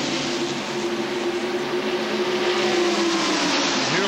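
NASCAR stock cars, including a Havoline Ford, race side by side in the 1993 Winston 500, a loud sustained engine roar with a steady droning pitch and no talk.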